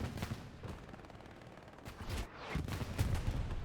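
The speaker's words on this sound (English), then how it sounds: "is now being shot at by the AT cannons" Anti-tank cannons and rifle fire in a competitive Hurtgen match of a World War II shooter, sounding as repeated sharp gunshot bursts and booming reports, some close and loud, others more distant, with no talk.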